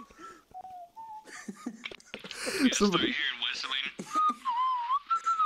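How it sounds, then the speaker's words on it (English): A person whistles a few sliding, melodic notes in the game Arma Reforger amid lively talk and laughter from several players nearby; the whistle returns clearly near the end. "somebody start whistling."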